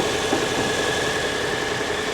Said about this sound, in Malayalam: ഇപ്പോൾ എൻജിൻ ഓൺ ആയിട്ടുണ്ട്, അതുകൊണ്ടാണ് ഈ ഒരു സൗണ്ടാണ് എൻജിൻ സൗണ്ടായിട്ട് വരുന്നത്.